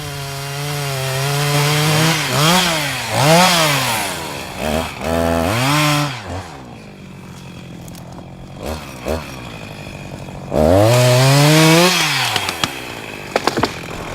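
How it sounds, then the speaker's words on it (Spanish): A chainsaw cuts down a tree that has dried out completely from bottom to top, its engine loud and near, revving up and down repeatedly as it bites into the wood, idling briefly before surging again. "Para no contaminar el resto de la parcela, toma la decisión de cortar el árbol."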